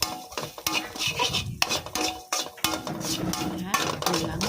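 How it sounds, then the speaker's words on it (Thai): A metal spatula scrapes and clanks against a wok in quick, irregular strokes while stir-frying crispy pork with chili and salt, with a faint sizzle underneath. "ปรุงรสนะคะ คั่วเลยค่ะ"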